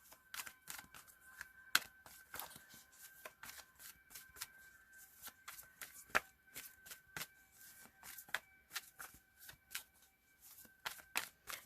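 Tarot cards being shuffled by hand, a run of crisp riffling flutters and sharp snaps repeating at an uneven pace, quiet and close with no talking.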